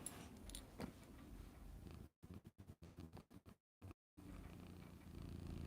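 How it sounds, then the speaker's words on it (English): A pet cat purrs close to the microphone, a soft low rumbling drone broken by several abrupt dropouts into silence midway before the steady purr returns. "Can you hear her purring?"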